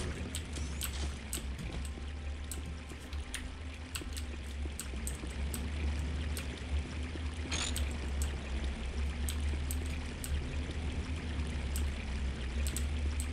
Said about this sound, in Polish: Gdzie tu się leje woda?